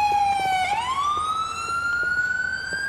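A police cruiser siren in GTA IV with the LCPDFR mod wails close and loud, its tone dipping and then rising in a long sweep over the low hum of the vehicle.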